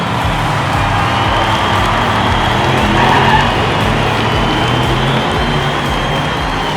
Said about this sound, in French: Marco Polo arrive sur le dernier virage en nous faisant un petit 180